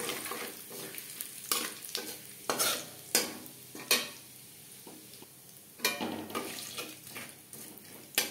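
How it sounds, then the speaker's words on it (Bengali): Cumin seeds and a torn bay leaf frying in oil in a wok, a continuous crackling sizzle punctuated by repeated loud spatula scrapes and knocks, close up and without voices. "পনেরো 20 সেকেন্ড জিরে ও তেজপাতা ভেজে নেওয়ার পর"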